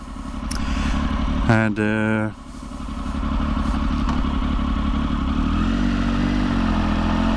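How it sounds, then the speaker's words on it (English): A Triumph Tiger 955i motorcycle with a Sebring exhaust idles in a street in Gütersloh, Germany, giving a loud, steady, smooth engine drone throughout, with a short spoken word and a brief clatter early on. "I have to admit, the engine does run really sweet."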